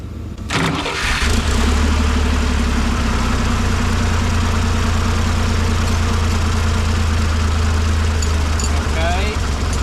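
A 1958 Lull cherry picker with a fuel leak, left sitting for 15 years, cranks briefly, then catches and settles into a loud, steady, low rumbling idle close by, with someone speaking over it.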